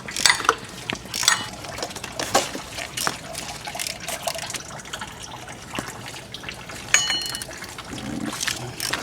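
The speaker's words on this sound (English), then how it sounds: "Now I have a bunch of these bolts that line the water pump that need to come out" A hand ratchet clicks in short, uneven bursts as water pump bolts are worked loose on a 3.7L Jeep Liberty engine, with metallic taps and faint dripping water nearby.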